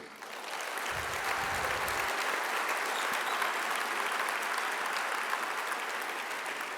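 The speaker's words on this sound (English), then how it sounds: "give a round of applause to our elected officials" A large audience at a political summit in Arizona breaks into applause, a dense, steady wash of clapping that starts almost at once and holds at full strength throughout.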